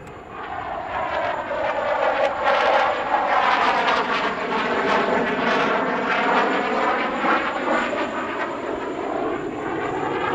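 Jet aircraft of the August 1st aerobatic team fly a display at the Dubai Airshow, a loud sustained engine roar that sweeps past with a falling, Doppler-like tone and no voices.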